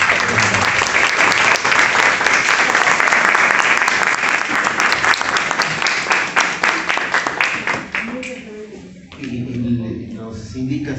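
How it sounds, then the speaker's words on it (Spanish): Audience applause after a short-story and poster contest awards the winners, a dense burst of many hands clapping that swells loudly, then thins into scattered claps before a voice speaks near the end. "un aplauso para todos estos ganadores"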